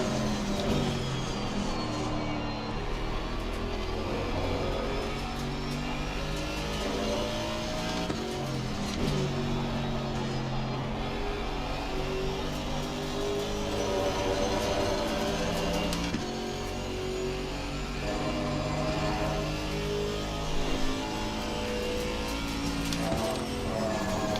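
Porsche and Maserati GT race car engines in Assetto Corsa Competizione on the Red Bull Ring: a continuous loud engine drone with rising and falling revs and gear changes throughout.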